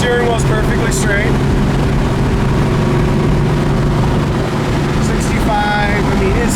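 A 1968 Ford Fairlane 500 cruises at 60 mph, a steady low engine drone and road roar filling the cabin at constant volume, with a voice talking over it.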